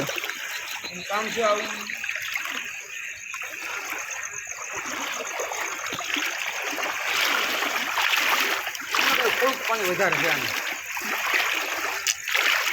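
Floodwater rushes and splashes during heavy rain at night, a constant close churn of flowing water. Someone speaks briefly over it.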